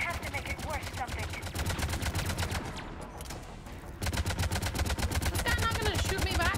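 Rapid automatic gunfire from the video game Mass Effect 3 (Legendary Edition), loud and continuous bursts of dense repeating shots, briefly thinning in the middle before resuming at full intensity.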